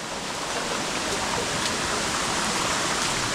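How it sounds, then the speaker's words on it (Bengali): Continuous loud rush of falling water at the upper part of Soinggong waterfall, Thanchi, Bandarban, a dense steady roar with no breaks, close at hand. "আমরা কিন্তু এখন ঝর্ণার উপরের অংশে আছি।"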